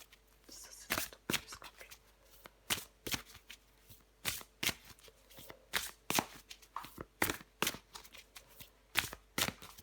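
Tarot cards being shuffled by hand: a steady run of crisp, close riffling and snapping bursts, each one short and sharp, repeating in an uneven rhythm with no talking.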